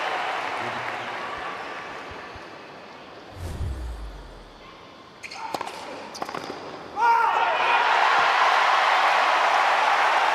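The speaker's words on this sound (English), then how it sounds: "the crowd have erupted. They've liked the battle. It's got noisy down here." Tennis spectators at a United Cup 2025 match between Cobolli and Humbert cheer and applaud after a long rally; a few ball bounces and racket sounds come first, then the crowd noise bursts in loud and sustained.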